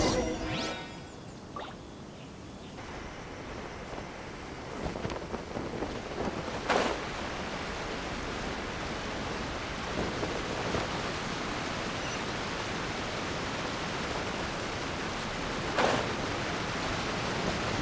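Steady broadband rush of a waterfall in Genshin Impact's Narukami area, a continuous wash of falling water with a few brief swooshes layered on top, loud and unbroken throughout.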